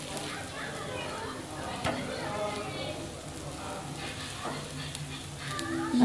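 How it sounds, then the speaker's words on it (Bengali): Bread frying in butter in a pan for a spicy masala bread omelet toast, giving a steady close sizzle with occasional stirring and turning noises, while a voice talks over it. "আমি দেখো ভালো করে ভেজে নিচ্ছি বাটারটা দিয়ে।"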